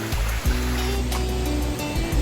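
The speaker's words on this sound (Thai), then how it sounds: "แล้วเราก็มาถึงน้ำตก" A waterfall at Saraburi in Thailand, heard as a loud, steady broadband rush of falling water that fills the whole clip, with a low rumbling undertone and no voices.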